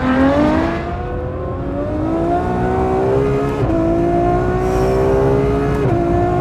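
A Ferrari F12 accelerates hard in a straight line, its engine note climbing loud and close through the revs, with sharp drops at two gear changes before it pulls upward again.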